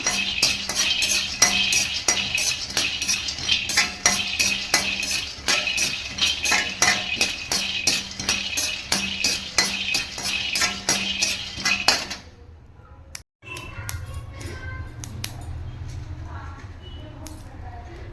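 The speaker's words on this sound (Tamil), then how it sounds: "நம்ம நிலக்கடலை சேர்த்துட்டு இப்போ வறுத்துக்கலாம்" A metal spoon scrapes and clinks rhythmically against a pan while peanuts and cardamom are dry-roasted for a green gram laddu, close and steady for several seconds before a short pause and quieter, scattered kitchen sounds.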